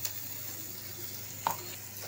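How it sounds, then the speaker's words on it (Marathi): Coarsely ground dried shrimp (sukat) frying in oil in a pan gives a faint, steady, even sizzle, with one brief soft clink partway through and no voices. "कडक म्हणजे 2 ते 3 मिनटं मस्तपैकी फ्राय करून घ्या"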